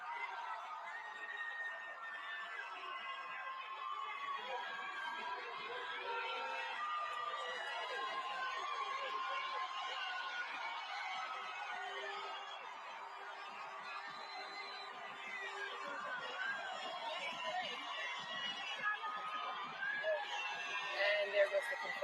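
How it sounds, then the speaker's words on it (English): A large Philadelphia Eagles parade crowd forms a continuous distant roar of cheering and chatter, with commentators talking over it the whole time. "Listen to that crowd"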